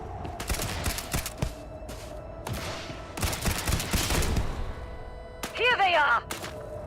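Gunfire in the Starfield video game, several bursts of rapid shots spread across the stretch, moderately loud amid game ambience, ending with a ringing metallic whine.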